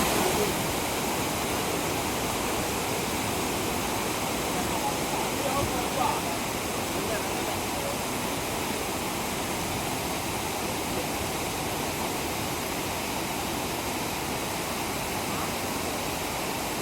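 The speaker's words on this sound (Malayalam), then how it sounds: "ഈ കാണുന്നതാണ് കേട്ടോ ചാർപ്പ വെള്ളച്ചാട്ടം എന്ന് പറയുന്നത്" Charpa waterfall near Athirappilly in Kerala, a steady broad roar of falling water that stays loud and unchanging throughout, heard close with no other sounds standing out.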